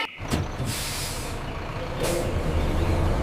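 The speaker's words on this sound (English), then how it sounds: "B for bus." A bus's air brakes hiss loudly and steadily, with a second burst of released air partway through, over low engine rumble close by.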